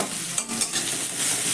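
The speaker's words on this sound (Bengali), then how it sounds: "পেঁয়াজটাকে হালকা করে একটু ভেজে নেব।" Finely chopped onion fries in hot oil with cumin, giving a loud, constant sizzling hiss over the whole short stretch, broken by a couple of brief stirring scrapes.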